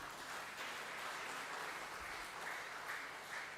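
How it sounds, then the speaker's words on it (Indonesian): A church congregation applauds steadily and evenly throughout, a dense, sustained clapping from a full room at a Sunday service. "sekali lagi kita ucapkan selamat dan berikan tepuk tangan."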